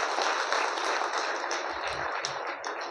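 Audience applause fills a hall after a speaker's call to clap, a dense, steady wash of many hands held at an even level for the whole stretch, with no voices over it.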